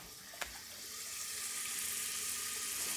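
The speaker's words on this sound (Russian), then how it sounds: "а теперь на медленном огне довожу до готовности зажарку" Steady hiss and crackle of vegetables sizzling in a hot pan, with a single clink of a utensil at the start.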